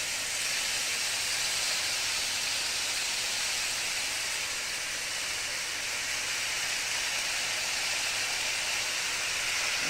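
About two pounds of ground beef browning in a pan gives off a loud, steady, dense sizzle close up, an even hiss that holds without a break.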